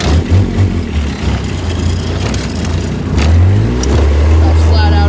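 A diesel golf cart engine with glow plugs and a manual clutch revs flat out in first gear. The loud, close drone rises sharply partway through and then holds a high, steady pitch.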